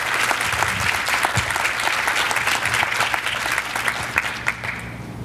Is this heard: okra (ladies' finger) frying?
no